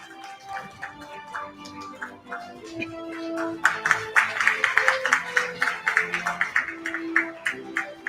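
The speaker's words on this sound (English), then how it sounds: "Round of applause for Gayatri" At a university graduation ceremony, an audience's applause swells from scattered claps into sustained clapping that continues to the end, after a quieter start with faint background sound.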